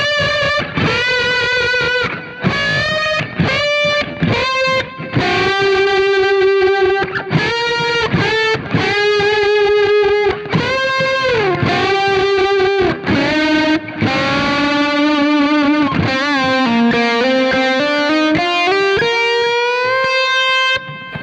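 Heavily distorted electric guitar plays loud unison bends, two fingers bending notes that slide up and waver in pitch over a long, continuous phrase.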